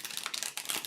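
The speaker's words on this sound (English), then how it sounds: "They sort of roll as you shuffle them." Round tarot cards from an Accurate AF deck by Prism + Fleur are shuffled by hand, making a quick flurry of soft crisp clicks and riffling slaps, close and fairly quiet, with no speech.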